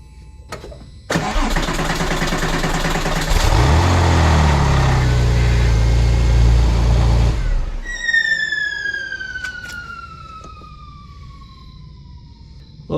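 Porsche 996 Turbo with a freshly rebuilt fuel pump assembly, a click and then a loud close starter cranking for several seconds before cutting off without catching, followed by a fading high whine.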